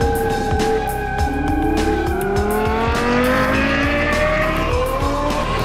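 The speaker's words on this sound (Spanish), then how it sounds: "¡Cómo suena ese motor!" An old Lexus LFA sports car engine revs hard and loud, its pitch climbing steadily through a continuous, close run with no one speaking.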